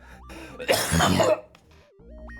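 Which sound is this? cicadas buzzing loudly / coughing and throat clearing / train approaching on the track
coughing and throat clearing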